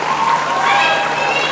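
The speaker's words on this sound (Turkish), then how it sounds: "alkış kızıma." Applause for a young girl playing at a playground ball pit, a steady, dense patter of clapping filling the whole moment with a busy, lively crowd murmur beneath it.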